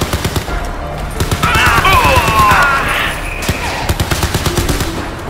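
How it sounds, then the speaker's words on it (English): Fast rhythmic turret gunfire in Crysis 3, a steady stream of close, punchy shots running throughout under other game effects and a brief radio-style voice. "The turret!"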